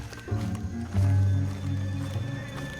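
In Red Dead Redemption 2, a horse gives a low, close whinny as its hooves clop and shuffle, with game background sounds underneath.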